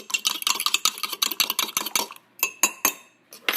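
Eggs are whisked with a fork in a bowl for a scrambled-egg microwave recipe, a quick run of clinking, scraping strokes at close range, then a few slower separate taps, with no speech.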